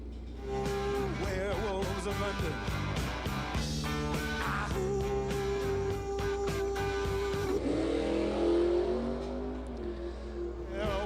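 Drag race cars launch at a small-town dragstrip, a Dodge Dart GTS against a 1999 Camaro, engines roaring steadily and loud throughout, with a rising surge of revving near the end.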